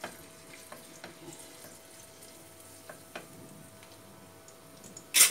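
Garlic sautéing in a pan for Chinese chicken rice gives a faint, steady sizzle, broken by a few sharp clicks and taps of a utensil and a brief louder clatter at the end.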